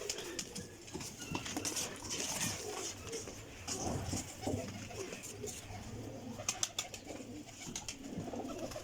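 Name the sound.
pigeons cooing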